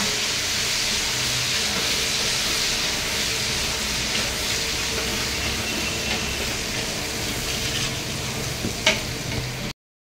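Boiled onion paste frying in a pan for a fish fantasy dish gives a steady, close, loud sizzle that runs unbroken until a sudden cutoff, with a few faint clinks near the end.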